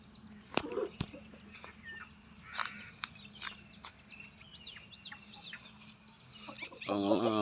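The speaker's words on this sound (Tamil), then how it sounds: "கோழிகள்லாம் குடும்பத்தோடு எவ்வளோ சந்தோஷமாக இருக்காங்க பாருங்கள்." A family of chickens, hens with their young, clucks and peeps outdoors in scattered, uneven calls, with a sharp click near the start and a busier burst of clucking at the end.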